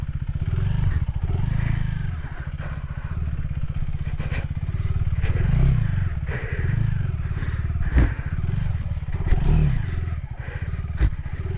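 A KTM 390 Adventure motorcycle rides around a track, its engine holding a steady, loud, close drone with slight swells in revs and occasional clatter, with no talk over it.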